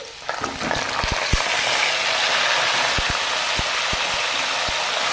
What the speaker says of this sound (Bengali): কাঠেলাটি লাল লাল করে ভেজে নিয়েছি এবার দিয়েছি ওলের ডাটা